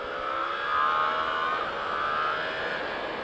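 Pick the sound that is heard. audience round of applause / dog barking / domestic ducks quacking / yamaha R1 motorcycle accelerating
yamaha R1 motorcycle accelerating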